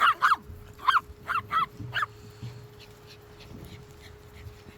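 A Cavapoo puppy lets out a series of high, thin whimpers and yips in quick bursts, then goes quiet with faint background hum.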